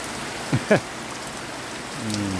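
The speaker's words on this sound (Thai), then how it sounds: "ฝนตกฝนตก" Steady midday rain falls on a rural farm with a constant soft hiss, broken by a couple of brief knocks early on.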